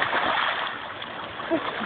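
A child jumps into a swimming pool, making a brief splash close by, followed by water churning and gurgling, with faint voices in the background.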